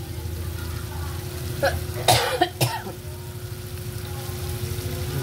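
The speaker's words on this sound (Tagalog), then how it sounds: "Mga inuubo sila, oh." A few sharp coughs break out nearby, two or three in quick succession, from people irritated by chili cooking, over a steady low engine-like hum.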